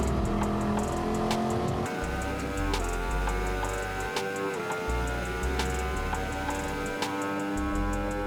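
A Mangusta '69 race car engine drones steadily at Monza in Gran Turismo 7, its tone holding and dipping briefly as the throttle eases and comes back on, with regular ticking clicks layered over the engine.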